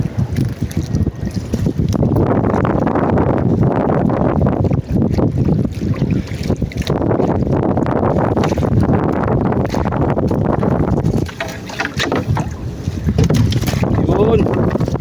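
Strong gusts buffet the microphone at sea beside a small fishing boat, a loud, continuous roar of wind with low rumbling surges, briefly easing before building again.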